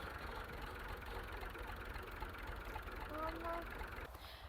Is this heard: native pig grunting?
no